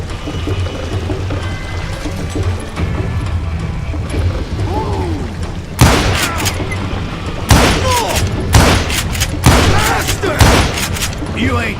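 Gunshots in the Wild West shooter Gunslinger Wild Wild West ring out in the second half, about five loud, sharp cracks spaced a second or so apart, following a quieter stretch of game ambience.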